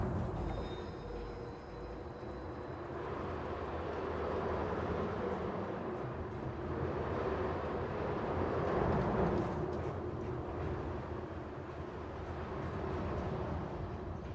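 A roller coaster train in Planet Coaster 2 rolls through the track as a steady, continuous rumble with a faint high whine, swelling slightly near the middle before settling, with no talk over it.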